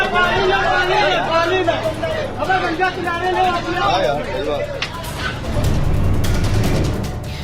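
A pitbull locked onto a cow bites and barks amid a loud, agitated crowd, with excited chatter and shouting continuing throughout and heavier rumbling toward the end.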